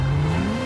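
A video-game car accelerates away, its engine note climbing steadily in a loud, close revving whine over a short moment.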